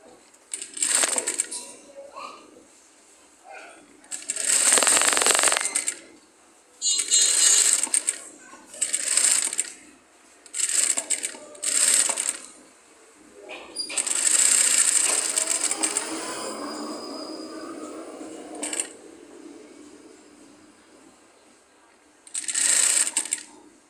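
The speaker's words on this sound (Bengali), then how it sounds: "মুড়ি দিয়ে আগে সেলাই করে নেব।" Sewing machine stitching fabric with fusing interlining for a yellow and black collar piping at a tailoring shop, running in several short bursts and one longer stretch, close and fairly loud, with pauses between runs.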